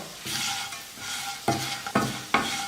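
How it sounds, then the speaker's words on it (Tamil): Curry leaves being stirred into potato varuval frying in a pan, close, loud sizzling with repeated scraping strokes of a spoon against the pan at an uneven pace, no talk. "கருவேப்பிலை சேர்த்து கலந்து விட்டுட்டு"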